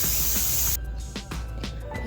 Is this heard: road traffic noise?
no